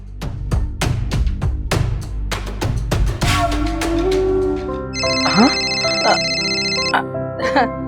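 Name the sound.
phone ringtone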